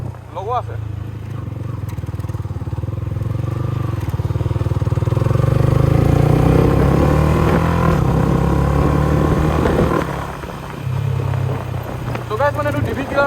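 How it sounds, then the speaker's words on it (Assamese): Motorcycle with a dB killer fitted in the exhaust, ridden during a Biswakarma puja ride, giving a steady loud engine drone with low rumble throughout, easing briefly near the end, heard close with wind noise. "এইটো ডিভি কিলাৰ মানে লাগি থাকোঁতেও চাউণ্ডটো এনেকুৱা দি আছে"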